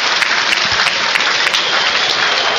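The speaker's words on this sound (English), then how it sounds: "The applause you hear is for Elias Kachunga" A football stadium crowd at a Huddersfield Town against Nottingham Forest match applauds a player, a loud, dense roar of clapping that stays steady for the whole few seconds.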